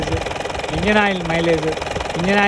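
A camping vehicle's engine runs at a steady idle, with a close, continuous mechanical drone and a voice talking over it.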